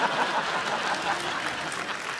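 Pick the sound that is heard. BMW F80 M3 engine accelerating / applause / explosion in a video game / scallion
applause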